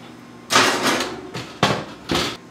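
Oven door being shut while baking cornbread in a home kitchen, a few loud close clattering thumps in quick succession with no talking.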